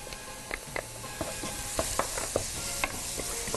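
Onion and garlic sizzle and fry in a hot pan with a steady crackling hiss, while a spoon scrapes and stirs in short intermittent clicks throughout.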